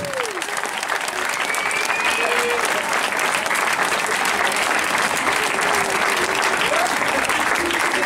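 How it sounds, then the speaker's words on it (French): A crowd applauds children from a mini-club at a Mamma Mia show, loud dense clapping that holds steady for eight seconds, with faint voices and a whistle-like tone drifting through it. "j'aimerais que vous applaudissiez très fort"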